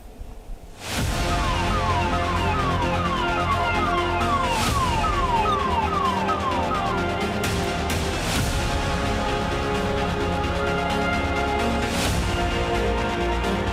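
An ambulance siren wails continuously outside a Delhi hospital after a sudden start, loud and steady with a repeating up-and-down sweep over traffic noise.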